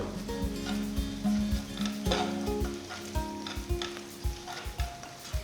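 Onions frying in a pan with turmeric and salt, a constant sizzle broken by repeated scraping and clinking of a spoon against the pan as they are stirred, close and clear with no voices.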